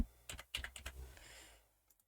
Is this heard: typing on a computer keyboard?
yes